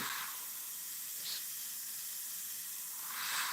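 Steady airy hiss of a spray gun applying paint to a painting, running continuously, with slight surges near the start and end, fairly quiet and without voices.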